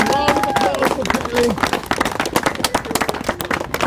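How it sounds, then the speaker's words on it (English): Clapping and cheering from a group at a reality show elimination event, a brisk round of applause mixed with excited voices and shouts close by. "Round of applause!"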